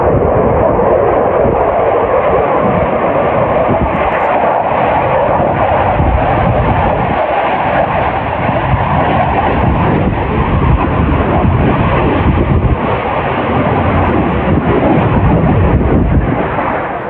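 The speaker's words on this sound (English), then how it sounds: "It's the third jet that's taken off in the last couple of minutes." A military jet climbs away from a naval air base, its broad roar steady and continuous, filling the air without a break and heard from some distance.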